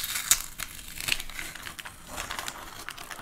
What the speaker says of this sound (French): Maintenant, je vais enlever mon scotch.